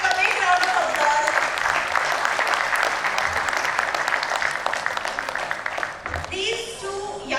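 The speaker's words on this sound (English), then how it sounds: "let's give them a big round of applause" An audience at a business talk event applauds loudly and steadily for about six seconds, a dense close wash of clapping that fades out, after which a voice begins speaking.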